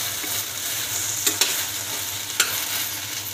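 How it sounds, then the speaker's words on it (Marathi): Okra roasts and sizzles in a pan under a constant frying hiss, with a few sharp clinks from a spoon stirring it. "आता भेंडी आपली छान खरपूस भाजत आले, साधारण अशी तारा देते, तर थोडी परतून घ्यायची आणखी"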